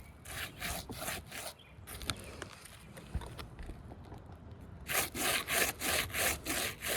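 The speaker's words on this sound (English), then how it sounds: "I am just lightly touching, and from that you can see the loose aggregate that is on these shingles" A hand lightly rubs across asphalt roof shingles covered in loose aggregate, giving close, rhythmic dry scraping strokes in bursts, with a steadier run of loud scrubbing toward the end.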